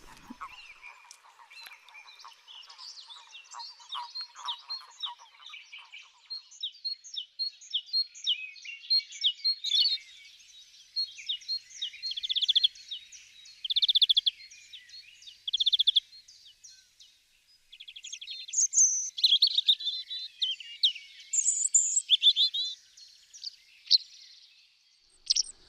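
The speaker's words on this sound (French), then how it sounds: "Ces oiseaux variés sont très communs" Various common birds sing in an urban park at Bordeaux Lac, trading rapid chirps, trills and whistled phrases. The calls are moderately close and come in irregular bursts and short pauses, with no voices.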